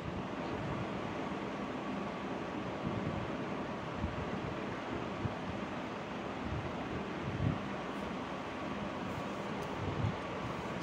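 Water pours from the sluice gates of Mettur dam in Salem, a steady broadband roar of rushing water heard at a distance, continuous and even, with wind noise over it and no talk.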